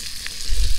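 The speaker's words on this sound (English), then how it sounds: "Kind of fried the tail in the fire." A trout tail fries over a sagebrush campfire, giving a short, close crackle and sizzle that swells toward the end with no talk.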